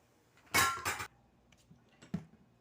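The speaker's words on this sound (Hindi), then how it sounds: "अभी मैं आप लोगों को डिश आउट करके दिखाती हूँ।" Freshly fried cabbage pakoras are dished out onto a plate, giving a couple of close metallic scrapes and clinks of utensils against the dish, then a faint soft tap, in a quiet kitchen.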